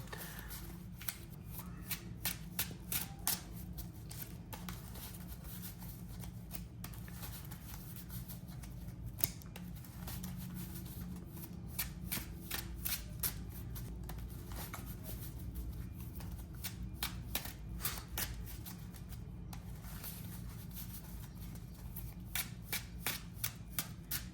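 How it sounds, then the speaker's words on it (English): A Blue-Eyes trading card deck is riffled and shuffled close up, quick fluttering bursts of cards repeating again and again with brief pauses between rounds. "deck is shuffled."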